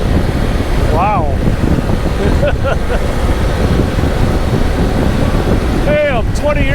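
A Harley-Davidson Pan America motorcycle cruises along a four-lane highway, a steady broadband rush of wind and engine filling everything, with a voice speaking faintly underneath.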